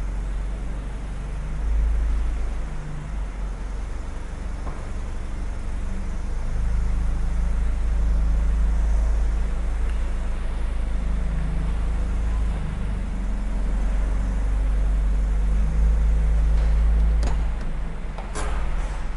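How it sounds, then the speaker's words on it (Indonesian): Toyota Ferio car driving again after repairs, heard from inside as a steady low engine and road rumble with continuous cabin noise and a few faint ticks and clicks. "Akhirnya mobil ini berjalan ya Mas Bian ya"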